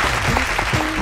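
Studio audience applause at a televised dance competition show, a dense steady wash of clapping filling the whole stretch with faint voices mixed in.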